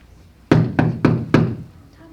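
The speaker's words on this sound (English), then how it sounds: "Dustin of Yorkshire, by order of King John, I demand you open the door." Four firm knocks land on a door on a school stage during a Robin Hood play, evenly spaced and loud and close, each with a short ring-out.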